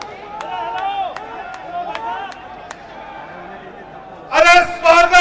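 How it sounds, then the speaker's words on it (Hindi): Loud burst of clapping and cheering from a crowd welcoming Prime Minister Narendra Modi at BJP headquarters, rising abruptly near the end after a stretch of amplified talk over a murmuring audience. "जोरदार तालियों से हम आदरणीय प्रधानमंत्री जी का स्वागत करेंगे"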